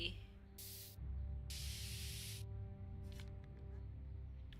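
Spray paint can in the Back to the Future video game: two distinct hissing bursts, the second longer, over a low game music bed with faint background sounds.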